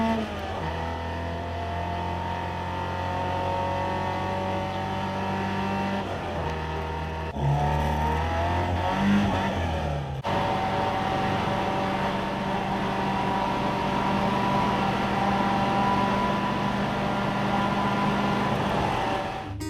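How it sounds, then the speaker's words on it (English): A Ford Escort Mk2 with a rusty body idles as its engine warms up, a steady close low hum with a couple of brief shifts in pitch before settling into an even drone for about twenty seconds. "Just gonna let MAUDE's engine warm up a little bit"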